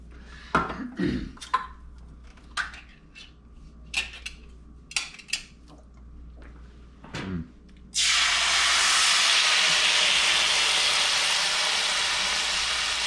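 Coconut milk pours into a hot pan for Jamaican-style yellowtail snapper, first a few light clinks and taps of utensils, then a loud steady hiss and sizzle that bursts in and holds to the end.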